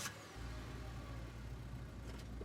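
A small two-seater pickup truck starts off in a horror adventure game, a low steady engine rumble rising from silence and holding at moderate loudness with no talk.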